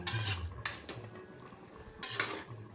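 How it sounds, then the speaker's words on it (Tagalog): A ladle stirs ginataang gabi, taro cooked in coconut milk, in a metal pot, scraping and clinking in a few distinct bursts over a quiet background; no one speaks. "Para mag-mix-mix yung mga sangkap na ating mga nilagay"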